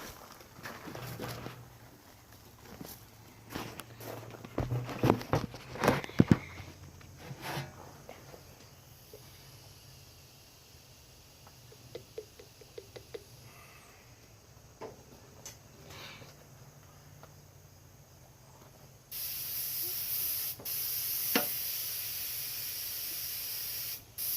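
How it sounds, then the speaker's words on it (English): Airbrush being cleaned out after painting a spotted bass mount, short sharp bursts of spray hiss early on, then a long steady loud blast of air near the end, heard close with no talk. "Cleaning the gun out. Cleaning the air gun out."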